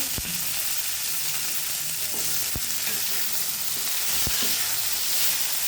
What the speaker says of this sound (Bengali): এবার মাছের মধ্যে কিছু কাঁচামরিচ ভেজে দেব।